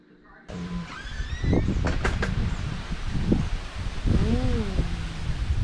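Strong, steady gusting storm wind roars across the whole clip, with rustling and a few scattered tonal calls and clatters mixed in.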